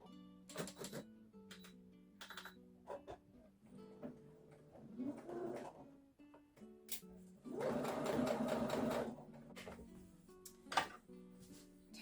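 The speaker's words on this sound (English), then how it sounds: "Sew down the hem edge." Sewing machine stitching down the hem edge of a patch pocket, bursts of mechanical whirring separated by pauses and small handling clicks, with one longer steady run of stitching near the middle.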